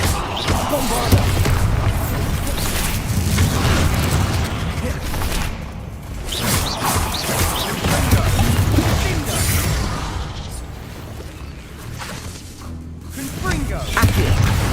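Bombarda explosion spell cast in the Hogwarts Legacy-style video game, heavy booming blasts and crashing impacts rolling through a busy combat mix, with a player's voice speaking over the noise.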